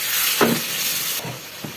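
Fish added to a hot pan for a coriander leaf curry sizzle with a steady, loud hiss, broken by a few soft bumps as pieces settle in the oil.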